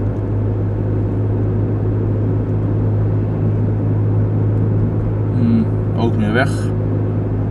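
Steady low road rumble of a car driving past Osdorp, continuous and close from inside the vehicle, with someone talking over it.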